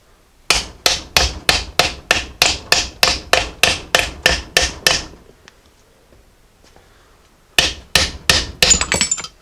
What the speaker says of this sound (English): I'm going to take a piece of wood now, and that way I'm hammering on the right surface, and we should pop this off